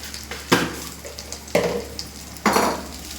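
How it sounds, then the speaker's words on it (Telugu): A spoon stirs spices into a capsicum paneer curry in a metal pan, with three sharp scraping clanks roughly a second apart over a faint background hum, close and fairly loud, no talk. "వేసుకొని బాగా మిక్స్ చేసుకోవాలి"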